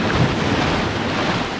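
Sea waves slap and wash over a rocky shore during a hunt for sea crabs and snails, a steady loud rushing roar with wind buffeting the microphone and no voices.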